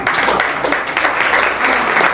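A live audience claps after a magician's money-making trick, producing a dense, steady burst of applause that is loud and close for a couple of seconds.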